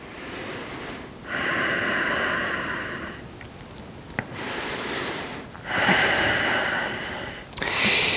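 Slow, audible breaths during a yoga stretch, long airy inhales and exhales rising and fading in a calm rhythm, close and alone.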